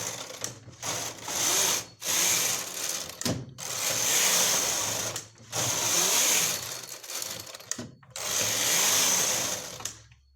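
A punch card knitting machine knits rows of a cardigan: the carriage makes repeated whirring, rattling passes, each lasting about two seconds, separated by brief pauses, close and fairly loud.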